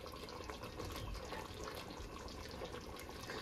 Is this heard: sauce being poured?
yes